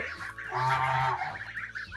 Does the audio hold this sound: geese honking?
yes